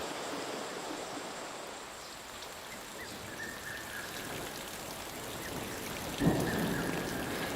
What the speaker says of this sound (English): it's gone from being beautifully clear and hot to really wet, and there's rumbles of thunder